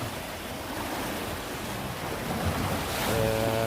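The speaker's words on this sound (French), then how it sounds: "on est où les vagues elles frappent" Sea waves crash against rocks on the Spanish coast, a steady roar of surf with gusting wind across the microphone, growing louder toward the end as a fresh wave breaks close by.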